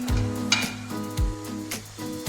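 Potato and carrot sizzle in a pan with cooked meat for a meat pie, a steady frying hiss broken by scraping stirs of the utensil, close and continuous.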